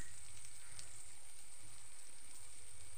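Cauliflower pieces frying in oil over low to medium heat, a steady close sizzle with faint crackling throughout and no talking.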